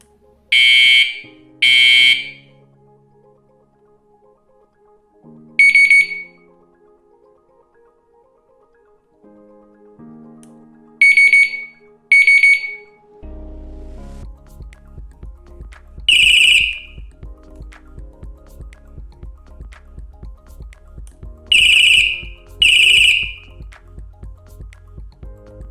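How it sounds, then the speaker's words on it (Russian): An Antusi A8 multifunction bicycle device sounds its three alert tones in turn: sharp high electronic beeps in pairs and triplets separated by pauses, later over a rapid pulsing tone, loud and close with no talking. "Есть 3 варианта звукового сигнала."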